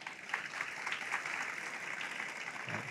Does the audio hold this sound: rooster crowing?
no